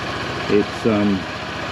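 A motorcycle engine idles steadily with a low, even throb just after starting first go on a cold day, and two short voice-like tones rise briefly above it.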